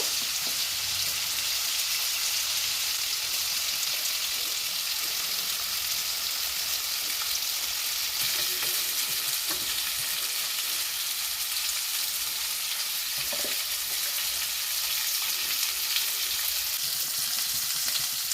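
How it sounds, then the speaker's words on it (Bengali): Cabbage pakoras sizzle steadily in hot oil, a dense, even frying hiss that carries on unbroken throughout with no talking. "বাকি পকোড়াগুলো ভেজে নেব।"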